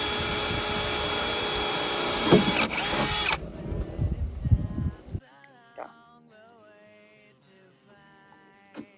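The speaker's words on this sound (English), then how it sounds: "I'm just putting in the 8 tap screws, self-tapping screws in the back." A power drill drives self-tapping screws into the rear fender of a Jeep JK during a flat fender install, loud whirring in the first half that stops abruptly, leaving faint clinks and handling noises.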